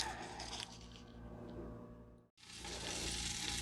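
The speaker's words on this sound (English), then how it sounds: "you can hear the butter sizzling in there" Steady, bright sizzling of butter frying in a hot pan, close and continuous, with a brief break before it resumes at full strength.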